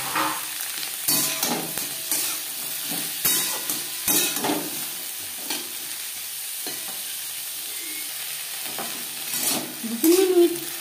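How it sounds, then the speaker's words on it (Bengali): Vegetables with carrot and drumsticks, stir-fried in a pan for a bitter curry, sizzle steadily while a spatula scrapes and tosses them in irregular bursts, close and fairly loud. "দু তিন মিনিট সবজির সাথে সজনে ডাঁটা নাড়াচাড়া করে নেওয়ার পর দিয়ে দেবো বেগুন।"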